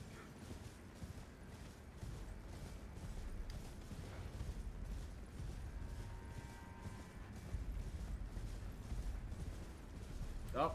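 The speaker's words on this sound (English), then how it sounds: "Oh, Wicker Man is stomping around." Heavy stomping of the Wicker Man in Elden Ring: a dense, low rumbling bed with repeated thudding vibrations, continuous and fairly loud, with creaking mechanical textures layered over it and no speech.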